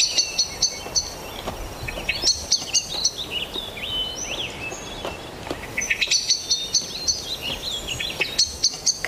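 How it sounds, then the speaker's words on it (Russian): A small songbird chirps in repeated bright, quick bursts, fairly close and clear, with short pauses between phrases over a faint outdoor background and no talking. "Красиво чирикает."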